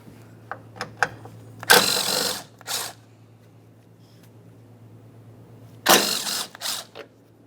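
On a 2012-2015 Honda Civic 1.8L, a ratchet loosens 5.5mm Allen head bolts holding a plastic panel: quick clicks, then two loud bursts of rapid ratcheting, close against near silence.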